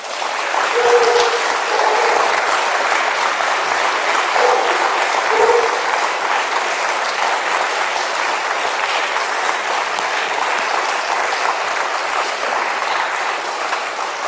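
An audience gives sustained applause after a talk, a dense and even wash of clapping that stays loud and steady for the whole stretch.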